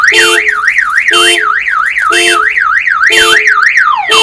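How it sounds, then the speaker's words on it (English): A loud Honda car alarm blares close by, a warbling siren alternating with bursts of harsh honking in a repeating cycle. "At least we know the alarm worked."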